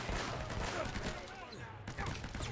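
Gunfire from an Uncharted: Drake's Fortune gunfight, a dense, continuous crackle of shots with no clear gaps, heard under faint voices at fairly low level.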